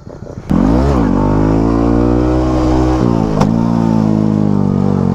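A Honda Grom motorcycle kicks into a loud, close rev as a rider attempts a wheelie, the engine climbing, dipping, then holding a high steady drone before a brief blip and sustained throttle.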